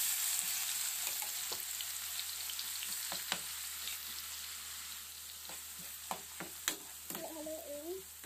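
Onions sizzle softly in a pan for Arabic stuffed grape leaves, a faint steady hiss broken by a few light clicks and scrapes near the end.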